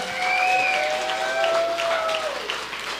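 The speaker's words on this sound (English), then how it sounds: "big round of applause, please" An indoor audience applauds at an evening avalanche-safety presentation, dense steady clapping from a crowd with a few whistles and cheers over the top.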